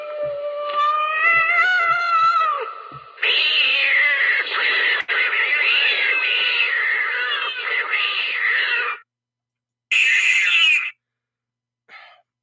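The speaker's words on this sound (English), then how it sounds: "sound guys, stop with the cat." Cat meows played as a sound effect: a few rising, wailing cries followed by a long, loud drawn-out caterwaul, then two short meows after a pause, clear and close with no talking.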